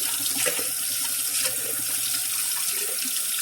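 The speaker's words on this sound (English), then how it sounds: "Get the sink filled up." Hot water runs from a tap into a plugged kitchen sink, a steady close rushing and splashing that carries on alone without pause.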